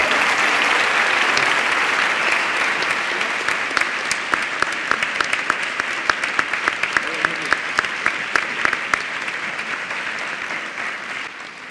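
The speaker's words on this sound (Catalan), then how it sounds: "Fort aplaudiment" Loud audience applause at the XXII Enric Valor novel prize ceremony in Castalla, a sustained dense roar of many clapping hands with sharp individual claps standing out, continuing strongly throughout with no talk over it.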